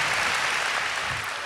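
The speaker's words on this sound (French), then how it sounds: "On peut les applaudir, hein?" Audience applause at a church celebration marking twenty years, a brief, dense wash of clapping that holds steady throughout.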